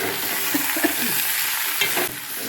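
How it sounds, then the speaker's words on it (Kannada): Oil crackles and sizzles steadily as a tempering of spices and garlic fries in a hot pan for big lemon pickle, with a few sharper pops and scrapes of stirring, close and fairly loud. "ಇದು ಒಗ್ಗರಣೆ"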